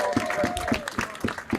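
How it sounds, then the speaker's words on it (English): A protest crowd outdoors in rain and cold at Parliament Square applauds itself, with scattered, fairly quiet claps and some voices in a loose, thin rhythm over a few seconds. "give yourselves a round of applause for doing that day after day"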